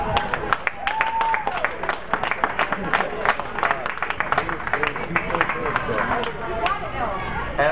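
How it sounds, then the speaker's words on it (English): Crowd applause at a bowling event for the handicap division runner-up, brisk sustained clapping from many people, with voices mixed in underneath. "Your handicap division runner-up deserves a huge round of applause."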